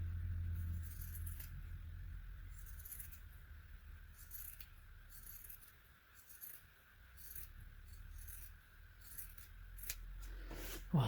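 Scissors snipping through terry towel fabric while cutting out a turban hair towel, a soft, steady close-up cutting texture running throughout over a low background hum.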